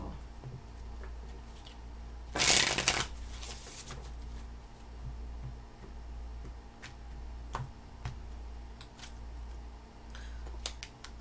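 Tarot cards being shuffled: a loud, dense burst of riffling near the start, then scattered soft ticks and taps of cards over a quiet low hum.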